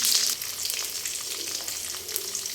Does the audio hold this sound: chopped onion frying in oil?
yes